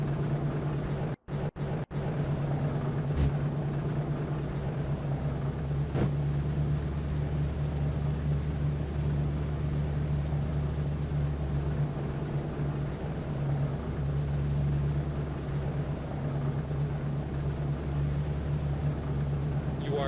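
B-17 bomber engines in a flight simulation drone steadily while taxiing to the runway, a loud, constant, low mechanical hum with a tonal whine that barely changes, briefly broken by a couple of short clicks early on.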